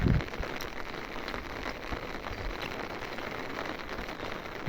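Rain drumming on an umbrella overhead, a dense steady patter of close drops with no voices.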